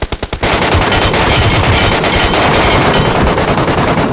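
Dense, loud automatic gunfire fills a Metro Royale match. A few opening shots lead into a continuous rattling stream of rounds that never lets up.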